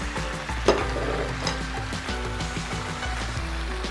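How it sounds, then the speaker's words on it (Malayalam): Green chicken curry stirred in a pan makes a close bubbling sizzle with a sharp spoon clank near the start and a steady musical tone beneath. "ഒന്ന് നന്നായി ഇളക്കി കൊടുക്കാം."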